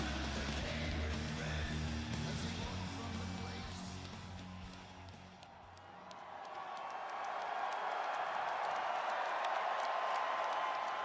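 A WrestleMania arena crowd in Las Vegas roars and applauds in a loud, continuous wash that dips briefly midway and then swells again, with no talk over it.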